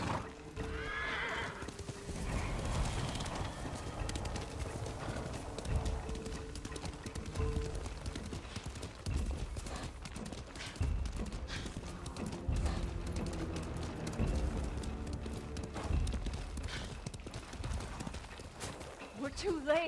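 Horse clip-clop hoofbeats at a gallop in the samurai video game Ghost of Tsushima, steady and close, with whinnies and neighs, under game music and speaking voices.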